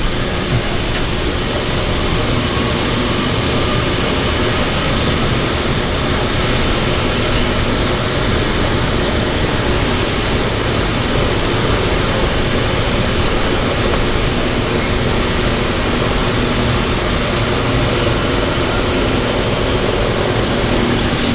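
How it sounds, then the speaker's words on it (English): A de Havilland Twin Otter propeller aircraft at Vancouver Harbour, a steady, loud, broadband engine and propeller roar that holds constant throughout without a break. "Yeah, I love the Twin Otter."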